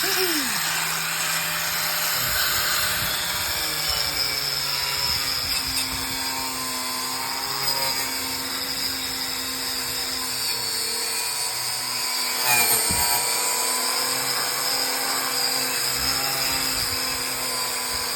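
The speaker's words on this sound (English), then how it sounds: "I got the angle grinder in my hand" An angle grinder running on a Dodge Coronet during a car build, a continuous loud high whine held steady from start to finish, close up and alone, pitch shifting slightly as the tool loads against the metal.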